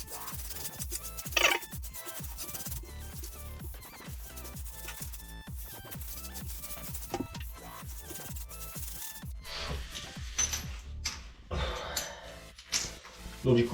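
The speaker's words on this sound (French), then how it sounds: "on les ponce un peu avec une petite canne à poncer sur les côtés" Mosaic tile edges are rubbed with a small sanding stick, giving a repeated rhythmic scraping and rasping that is close and steady. A voice speaks briefly at times.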